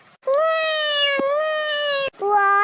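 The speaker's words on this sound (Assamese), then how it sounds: "এইটো মেকুৰী মাতৰ নিচিনাহে লাগিলে দেখোন" Cartoon cat meowing: two long, clear, tonal meows in quick succession, loud and close, the first drawn out and the second cut short, with no talk over them.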